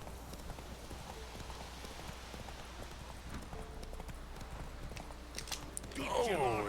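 The horse Roach gallops in The Witcher 3 video game, rhythmic hoofbeat clip-clop running steadily under game ambience, swelling louder near the end.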